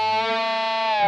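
An electric guitar played through a Spark amp with light distortion rings out as one sustained, bright note or chord, loud and close, holding steadily for about a second.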